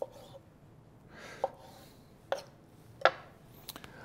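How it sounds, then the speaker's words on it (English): A knife cuts peeled tomatoes into quarters, producing four sharp close taps on a cutting board spaced about a second apart over a soft, quiet background. "We're going to cut them in a quarter."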